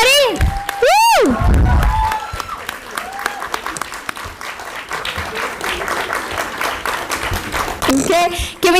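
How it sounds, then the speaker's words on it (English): At a startup competition grand finale at Mount Carmel College, a crowd breaks into loud, sustained applause with whoops and cheers, while voices call out at the start and end. "Give them a big round of applause,"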